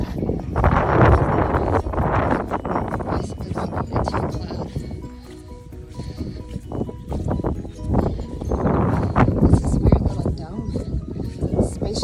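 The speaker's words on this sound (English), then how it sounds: "It's windy up here" Strong, gusty wind on a mountaintop roars and buffets the microphone, a constant low rumble rising and falling in waves.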